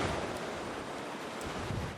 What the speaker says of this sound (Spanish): el mar ha estado con fuerte oleaje